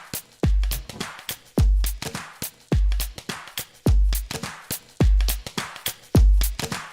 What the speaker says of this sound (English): So these are plastic bottles.